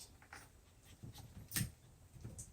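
Playful 6.5-week-old Mauzer puppies pant and snuffle close by in short, soft breathy bursts, with one sharper burst near the middle and no talk over it.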